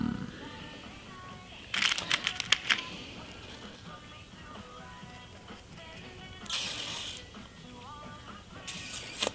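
Small metal washers and bolts clink and rattle in short irregular bursts while someone rummages through them nearby, with quiet pauses between the handfuls.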